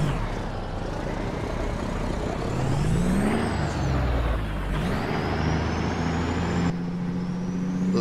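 Heavy haul truck in American Truck Simulator, a deep diesel engine drone that rises and falls through gear changes, punctuated by sharp hissing air brake releases, steady and close with no voices over it.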